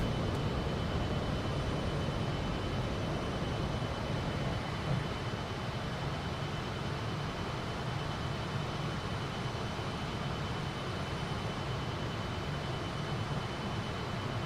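A Fokker F28 airliner taking off in FS20, its engines giving a steady, loud broadband roar with a low rumble that holds constant and unbroken throughout.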